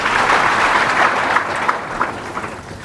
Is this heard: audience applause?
yes